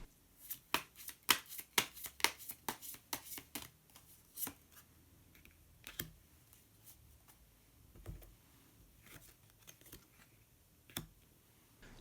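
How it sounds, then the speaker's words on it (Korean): Tarot cards are shuffled in a fast burst of crisp snaps, followed by scattered quiet taps and slides as cards are drawn, close and soft with no one talking. "히든 카드를 한 장 더 뽑아보도록 하겠습니다"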